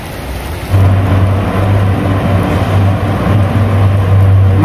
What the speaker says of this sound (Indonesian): Karena hujannya makin gede teman-teman